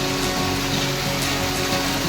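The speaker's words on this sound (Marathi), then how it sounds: "एवढा पाऊस चालू आहे" Heavy rain pours steadily in a dense, continuous broadband wash, loud and close with no breaks over the whole stretch, seen from an upper-floor home in Surat.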